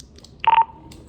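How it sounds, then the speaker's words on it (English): A Motorola XTS1500 handheld radio gives its talk permit tone after the push-to-talk button is pressed: one short, clean electronic beep lasting about a fifth of a second, alone in near silence. "once you click it, you have to wait for the talk permit tone"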